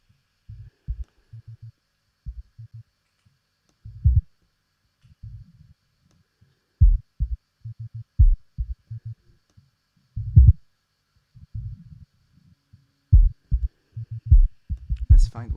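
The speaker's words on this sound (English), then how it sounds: "Let's find where the kick is exactly." Kick drum from a beat being mixed in Ableton Live, deep punchy low thumps in an irregular rhythmic pattern over near silence, isolated and fairly loud.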